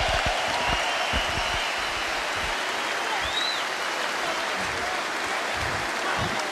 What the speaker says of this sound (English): So give Costa a great champion a round of applause